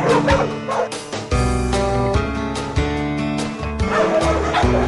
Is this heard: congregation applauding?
no